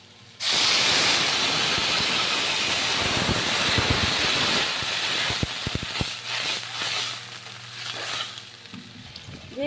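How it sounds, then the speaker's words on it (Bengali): Water is poured into a hot pan of frying raw banana, setting off a sudden loud hiss and sizzle that bubbles on and slowly settles. "আর এখন আমি জল দেব।"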